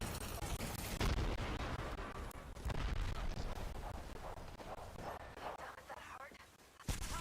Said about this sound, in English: Grenade out. Frag out.